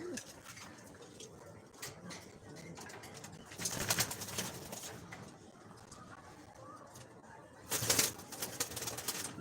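Pigeons coo softly in a cluster, with bursts of wing flapping and rustling around them and some murmured talk in the background.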